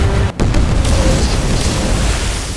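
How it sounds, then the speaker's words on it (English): A ship's cannon blast strikes a warship in a loud, booming explosion, the heavy impact rolling into a sustained rumbling roar that fills the rest of the moment. "his warship was hit by a cannon."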